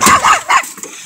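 Dogs bark outdoors in close, loud, rapid yips and woofs, several overlapping barks in about a second with no talk.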